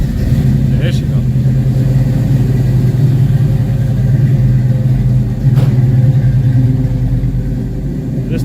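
Oldsmobile Cutlass G-body engine running at a steady, loud idle, a continuous low rumble close by from start to finish with no clear revving.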